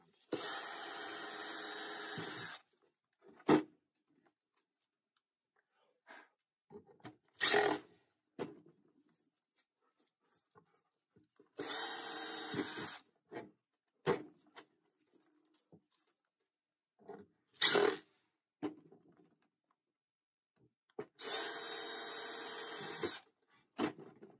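A drill drives screws with a square number 3 bit into a drum, giving several loud whirring bursts a few seconds long, separated by quiet gaps and small clicks and handling knocks, close by.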